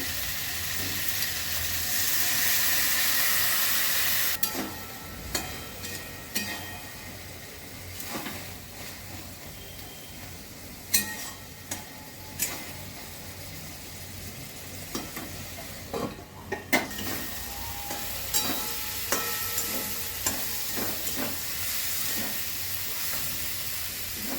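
Water splashed into a hot pan of prawns and kochur loti brings a steady sizzling hiss, with clinks of stirring and scraping scattered through it. Nobody speaks.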